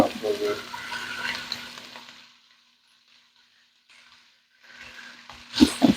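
Zucchini frying in a pot sizzles and is stirred with a few scraping knocks, fading to near silence midway before louder stirring clatter returns at the end.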